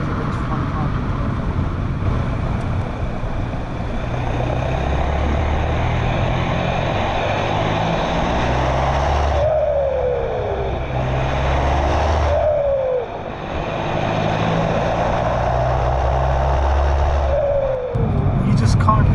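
A VW Golf MK5 PD150 diesel with a new exhaust drives steadily with a loud engine drone, and three sharp turbo flutters follow each lift-off, at evenly spaced intervals.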